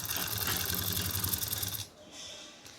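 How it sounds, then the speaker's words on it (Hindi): A sewing machine runs a tacking stitch through doubled suit fabric, a fast steady whirring buzz for nearly two seconds before it stops, leaving a quieter room hiss. "इसको ऐसे डबल करके ऐसे इस पर मशीन से कच्ची सिलाई लगाएंगे।"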